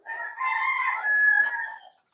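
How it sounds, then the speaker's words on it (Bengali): A desi rooster on a free-range poultry farm crows once nearby, a loud, drawn-out call of about two seconds heard clearly on its own. "ওই যে দেখেন মুরগি কত সুন্দর ঘুরতেছে"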